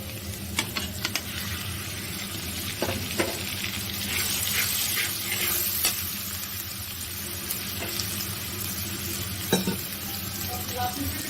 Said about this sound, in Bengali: এখন আস্তে আস্তে মশলাটাকে আমি ভালোভাবে কষিয়ে নেবো পেঁয়াজের সাথে